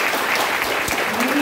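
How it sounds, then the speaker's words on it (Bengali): Female students at a freshers' welcome event give themselves a short, loud round of dense clapping, a steady wash of many hands throughout. "এবার জোরে একটা হাততালি দাও নিজেদের জন্য।"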